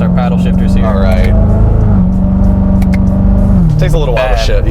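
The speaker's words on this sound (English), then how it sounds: "I put this in the manual to test our paddle shifters here." A 2016 Corvette Stingray engine drones loudly up close in manual mode, with paddle-shifted gear changes audible as distinct steps in engine pitch. People talk over the engine noise throughout.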